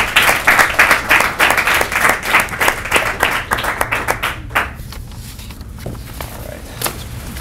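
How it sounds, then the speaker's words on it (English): Loud, close applause follows a space medicine round table, rhythmic clapping from a modest audience that thins out after a few seconds into scattered last claps and room noise. "let's give them a round of applause"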